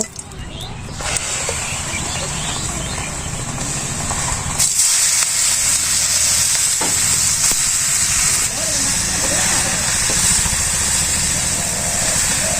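Vegetables sizzle and hiss in hot oil with cumin seeds in a village kitchen, a steady loud frying noise that runs throughout with a brief dip partway, while voices talk over it.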